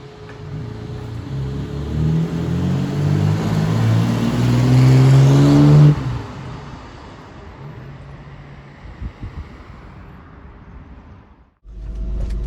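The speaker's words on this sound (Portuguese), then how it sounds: "Uma coisa que eu achei bacana dessa picape foi justamente o ronco." Nissan D21 pickup with a V6 engine revs hard, its loud roar climbing for several seconds before cutting off, then settling to a lower idle rumble with a brief jolt near the end.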